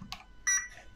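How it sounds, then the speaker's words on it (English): A short electronic confirmation beep from the speed controller of a GSpeed Element Enduro RC car, close and clear, with a brief chirp just before it. "Get a confirm beep."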